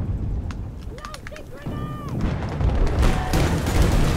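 Gunfire from a VHX gun fitted with a long barrel in a video game, a rapid string of booming shots that grows denser and louder toward the end, with a voice talking over part of it.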